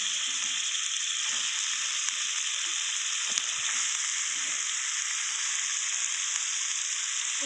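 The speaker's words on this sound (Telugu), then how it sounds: "ఈ టమాటో కొద్దిగా ఫ్రై అయిన తర్వాత చికెన్ వేసుకోండి" Chicken cooking with tomato in a pan for chicken curry gives a steady, close, loud sizzle throughout. Faint soft bumps sit under the frying hiss, and no one speaks.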